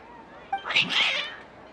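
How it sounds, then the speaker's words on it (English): A cat in the video game Genshin Impact lets out a single agitated, drawn-out meow, close and fairly loud, in the Sumeru area. "Your cats seem pretty worked up."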